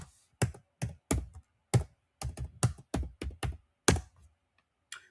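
Password typed on a computer keyboard at a Linux server login prompt: a quick run of distinct key taps, some clustered and some spaced, close and fairly loud with quiet gaps between, ending in a single firmer keystroke like Enter.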